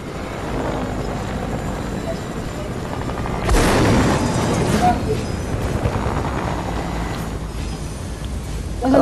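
A large explosion in Fortnite blasts a hole, a sudden broadband boom that swells and rumbles for a second or two over a continuous game background with battle noise and chatter.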